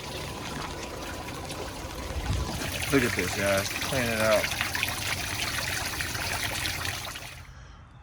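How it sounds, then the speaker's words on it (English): Water trickles and gurgles as it is poured into the cooling system of an overheating Dodge Charger 2.7 with the thermostat removed, a soft uneven flow near the mic while someone talks. "I'm gonna fill it with water"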